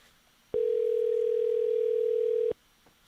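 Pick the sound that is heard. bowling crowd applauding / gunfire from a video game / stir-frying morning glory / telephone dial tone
telephone dial tone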